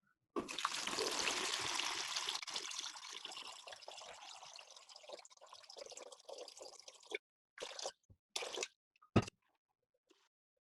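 Water at 72 degrees pours steadily into a container on a scale, measured out for mixing plaster. A continuous close splashing stream runs for several seconds, then stops with a few short trickles and drips.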